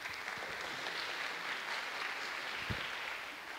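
Conference audience applauding sponsors, a steady, fairly faint wash of clapping that continues evenly throughout.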